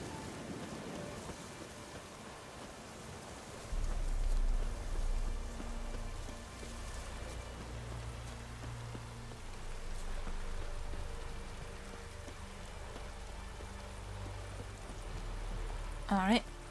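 Steady rain and low rolling thunder from a cold night in The Witcher 3: Wild Hunt, a constant wash of drops with deep rumbles swelling beneath, while a voice talks over it.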